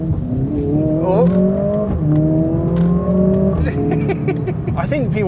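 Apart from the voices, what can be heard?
Mercedes-AMG CLA 45 S accelerating hard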